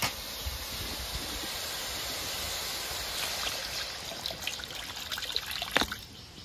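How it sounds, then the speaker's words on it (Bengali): Water poured into spiced curry masala in a pan, a steady close trickling pour with a soft hiss of liquid hitting the hot paste, a few splashes near the end, no talk. "মশলাটা কষানো হয়ে গেছে, এবার জল দিয়ে দেব"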